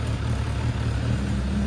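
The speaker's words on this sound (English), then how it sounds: "here it is, idling with a battery and a carb clean" An abandoned Suzuki Bandit motorcycle, left sitting for seven years, idles after a battery replacement and carburetor cleaning, giving a steady low engine drone with a regular pulsing throb, close and fairly loud, with no talk.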